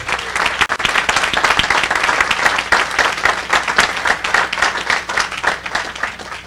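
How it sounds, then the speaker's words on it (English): Sustained applause from an audience, dense clapping filling the whole stretch at a steady, loud level. "let's give them all a round of applause one more time"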